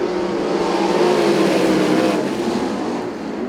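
Sprint race cars roar off together at the start of an ASCS Southwest heat race at Arizona Speedway, a loud sustained pack of engines revving continuously with no talk over it.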